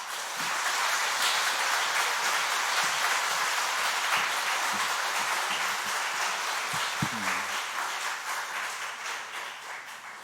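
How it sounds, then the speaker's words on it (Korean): A church congregation in Korea claps warmly to welcome a visiting professor to a wisdom literature seminar, sustained even applause from many people throughout, tapering slightly at the close. "우리 교수님 나오실 때 우리 크게 환영하면서 박수로 맞이하겠습니다."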